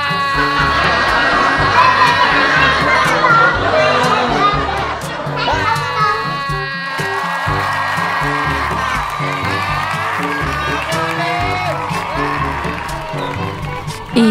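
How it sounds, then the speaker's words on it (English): Children shout and make noise together, a loud continuous clamour of overlapping kids' voices with whoops and excited cries that stays dense from start to finish, close by. "You've been making noise and shouting."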